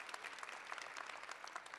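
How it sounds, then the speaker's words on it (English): Sustained applause from an audience at a fall graduation ceremony, a dense, even wash of clapping from many hands, heard from a distance and continuing throughout without speech. "Please join me in a warm round of applause in acknowledgement of their influence and leadership."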